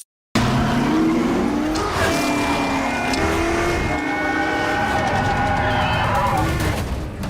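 Ford GT40 race car driven by a stunt driver roars past close and loud, its engine note sweeping up and down through gear changes, with tire squeal layered over the continuous engine noise.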